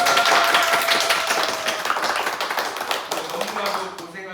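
An audience at a Korean event breaking into applause, dense clapping loud at first and slowly thinning, with voices talking underneath.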